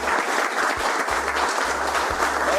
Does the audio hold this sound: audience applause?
yes